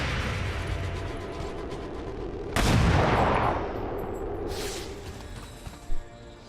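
An overwatch shot goes off in XCOM 2, one sudden loud blast that rumbles and fades over a steady background of game ambience, followed later by a brief sharp pop.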